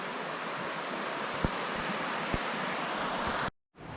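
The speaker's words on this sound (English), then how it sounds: "a nice little river" A small forest river flows steadily along old logs, a dense continuous rushing wash heard close, broken by a couple of faint knocks and a sudden cutout near the end.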